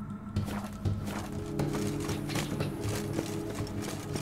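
Horse hooves clip-clopping in a video game, a brisk run of repeated hoof thuds over low game music, moderately loud and steady for a few seconds.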